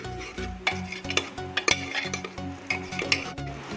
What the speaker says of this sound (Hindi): अब हम इसे भी कम से कम 3-4 मिनट इसी तरह से अच्छे से स्टिर करेंगे।